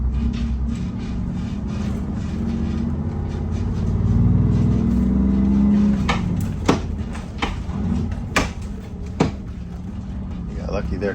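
A 1947 Greyhound bus engine rumbles low and steady as the throttle is blipped and the driver shifts gears, with a swell in engine note midway and a few sharp knocks, under continuous conversation.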